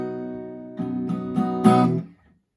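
A-major chord on guitar, strummed several times in a steady rhythm, each stroke ringing bright and close before the last one swells louder and then fades into silence.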